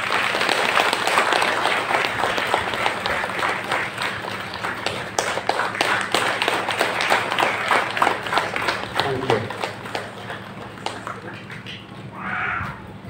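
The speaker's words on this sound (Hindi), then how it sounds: "जोरदार से ताली बजाएंगे।" An assembly welcoming two new women preachers in Gumla claps loudly, with a dense burst of applause thinning into individual claps, some voices and stray noises mixed in near the end.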